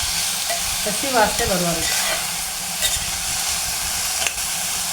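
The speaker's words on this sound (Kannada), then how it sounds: "ಚೆನ್ನಾಗಿ ಫ್ರೈ ಮಾಡಬೇಕು. ಅಂತ ಸೌಂಡ್ ಆಗ್ತಾಯಿದೆ, ಕೇಳಿಸುತ್ತಲ್ವ?" Doddapatre (Indian borage) leaves fry in a hot pan with a steady, close sizzling hiss and the scrape of stirring, while a voice speaks briefly over the cooking.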